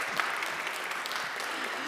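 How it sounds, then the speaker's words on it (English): An audience claps through a presentation on elections, a dense, even round of applause from many hands indoors at moderate level, with no voices standing out. "Should we have a round of applause?"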